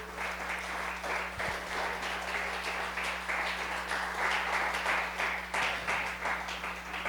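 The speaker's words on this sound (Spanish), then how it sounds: "Dale un aplauso al Rey por eso." Steady applause from a church congregation, moderately loud and sustained throughout over a low electrical hum.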